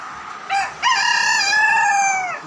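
A Japanese long-tailed rooster gives one loud, close crow: a short opening note followed by a long, drawn-out call that fades near the end, heard alone with no talk.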